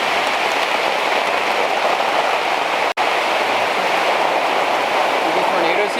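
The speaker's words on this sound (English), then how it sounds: "It's definitely raining." Steady rain falls on a campsite in the New Jersey mountains, a dense even hiss of drops close by that continues without pause apart from one sharp momentary cut partway through.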